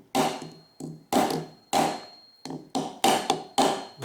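A hammer strikes the vertical head of an Industro-Lite mill with about eight sharp, evenly spaced knocks, each ringing briefly and decaying, loud and close with no talk.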